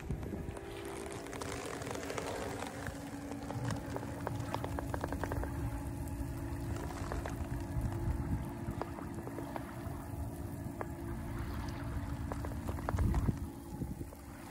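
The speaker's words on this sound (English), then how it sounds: "There's nothing like the sweet sound of the water splashing on the hull." Water splashes and gurgles steadily against the hull of a sailboat under way, a continuous close wash with wind noise and a faint low hum running throughout.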